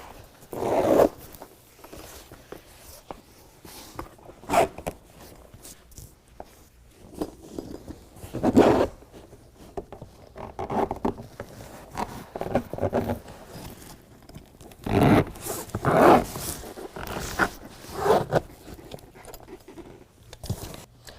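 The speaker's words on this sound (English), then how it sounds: "So what we're going to do is put that together and just zip it up." An industrial-grade zipper on a BedRug bed liner in a 2017 Ford F-250 truck bed is drawn closed along the floor section, giving a series of scratchy zipping bursts with short pauses, close and moderately loud.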